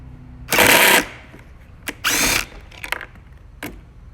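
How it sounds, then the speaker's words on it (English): A power driver whirs in two short bursts while removing 20 Torx bolts from the underside of a BMW E60 center console armrest assembly, followed by small clicks and handling knocks. "remove and replace the navigation knob controller here by turning the assembly over and removing 4 20 torx bolts."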